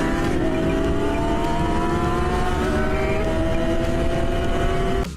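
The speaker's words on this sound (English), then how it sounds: "Motorcycles scare me so bad." Engines roar steadily for about five seconds with rising harmonic whine, like motorcycles speeding past close by, loud and continuous, then cutting off abruptly at the end.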